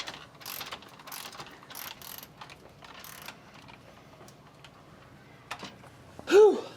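A ratchet tightening studs during a GM suspension repair, heard as a series of quick mechanical clicking bursts at close range, fairly quiet, ending with a brief louder squeal.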